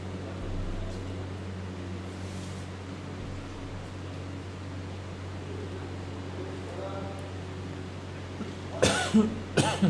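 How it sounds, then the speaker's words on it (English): A couple of sharp coughs from a cricket commentator with a cold break out near the end over a low steady hum, after a stretch of quiet background murmur. "excuse me for my cough"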